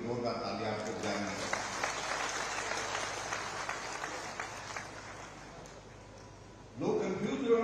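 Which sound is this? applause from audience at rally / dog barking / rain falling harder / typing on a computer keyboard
applause from audience at rally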